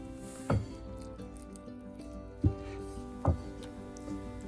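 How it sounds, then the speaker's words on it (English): High-hydration sourdough dough being stirred with warm water, giving soft wet squishing and sticky slapping sounds, with three distinct squelches standing out against a quiet background. "I'm just going to keep stirring it up till it's really nice and gooey"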